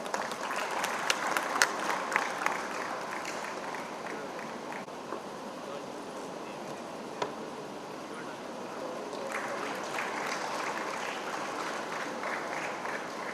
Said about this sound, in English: I request everyone to give them a big round of applause.